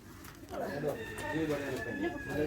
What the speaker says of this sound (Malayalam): ഇവിടെ ഒരു കോഴി